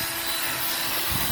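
A power drill bores holes for button snaps on a boat's bimini, a close, steady whirring grind with a constant pitched whine throughout.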